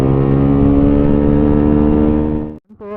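A Motorstar Z200ii motorcycle engine revs loud and close in a steady, sustained drone with strong harmonic tone, then cuts off abruptly near the end before a brief restart murmur.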